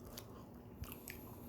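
Soft biting and chewing of a moist, fudgy Chick-Fil-A chocolate fudge brownie, quiet and close, with a few faint crunchy bites.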